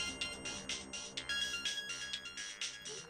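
A mobile phone ringtone plays alone, a bright repeating electronic melody in quick pulsing notes, fairly quiet and steady.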